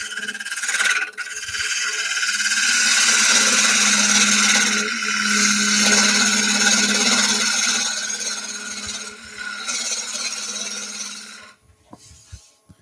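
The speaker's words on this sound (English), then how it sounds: "going to use the bottom of my bowl gouge like a skew chisel." A bowl gouge cutting wood while hollowing a bowl on a lathe with a Woodcut Pro-Forme hollowing tool, giving a steady loud scraping hiss and whine with brief dips, ending with a few small knocks.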